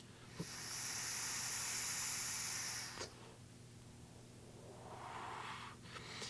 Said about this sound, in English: Let's have a vape.